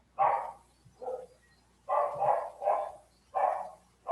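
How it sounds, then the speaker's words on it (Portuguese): A small dog barks in the background in separate bursts, single yaps and quick pairs spread over a few seconds, fairly distant and moderately loud, with no talking over them. "temos um cachorrinho latindo lá no fundo"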